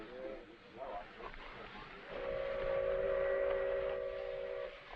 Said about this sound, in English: Sounds to me like the fast freight coming in